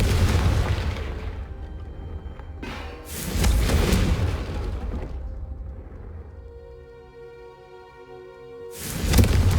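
The Confringo fire spell in Hogwarts Legacy goes off as a series of heavy fiery blasts: two big booms close together, a rumbling fade, a lingering tonal hum, then one more loud burst at the end.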